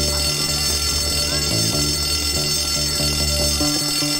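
A fire alarm rings steadily and loudly in the video game Bully, a continuous electronic bell tone over a low droning background with no voices.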